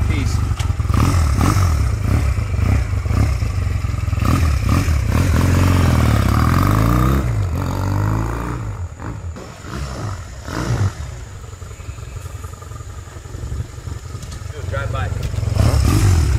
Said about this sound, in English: Starts right up with no choke because the pilot jets are micro-drilled.